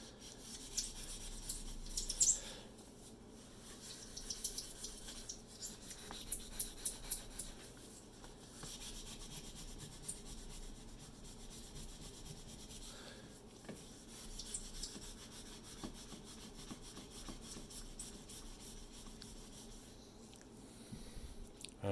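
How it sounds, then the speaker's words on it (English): A scrubbing pad rubs back and forth across a glass cooktop coated with cleaner, giving faint, close, irregular rasping strokes with brief pauses between passes, and no talk. "So then I'm just going to switch to the scrubbing pad now and see if we can just"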